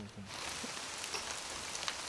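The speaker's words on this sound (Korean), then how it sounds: "그때 갑자기 또 비가 내리기 시작했다." Rain falling on a Chinese mountain cliff where workers build plank walkways, a steady, dense hiss of drops close by with no talk.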